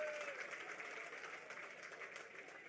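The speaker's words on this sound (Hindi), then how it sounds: "बहादुरी के लिए जोरदार तालियां बजा के एक बार उनका अभिनंदन कीजिए।" Crowd of party workers at an Aam Aadmi Party gathering clapping loudly and continuously, a steady wash of applause from start to finish.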